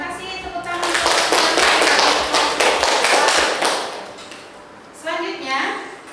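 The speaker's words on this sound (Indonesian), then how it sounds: "Tepuk tangan" An indoor classroom audience claps in a dense burst of applause lasting a few seconds, then fades, followed by a shorter second round of clapping.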